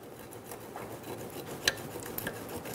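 Pliers scraping and working a brake hose lock clip free on a 2000-2007 Ford Focus during a front wheel bearing job, giving soft rasping metal rubs and one brief sharp click, heard close with no talk.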